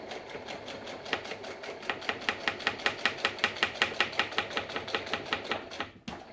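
A sewing machine stitches the corner of a lined zipper pouch with a steady, rapid run of close needle strokes that holds for several seconds before stopping abruptly.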